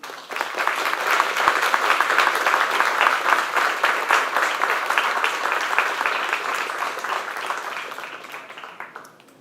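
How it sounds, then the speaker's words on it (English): An audience at a design talk applauds a speaker, a steady dense wash of clapping that holds for several seconds before tapering off at the end. "a big round of applause, please."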